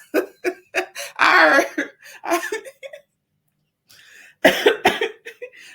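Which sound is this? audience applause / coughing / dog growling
coughing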